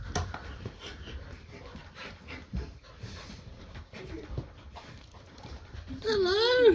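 A dog pants softly throughout, then lets out a rising, wavering whimper near the end, close and fairly loud.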